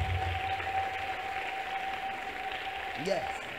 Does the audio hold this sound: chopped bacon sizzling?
no